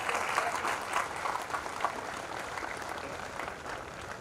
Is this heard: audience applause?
yes